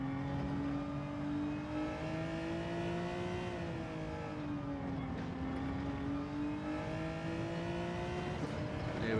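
A Genesis GR3 race car in Gran Turismo 7 heads into the pits at Lago Maggiore. Its engine drones loud and steady, with the pitch dipping and climbing as it shifts and slows, and no voice is heard over it.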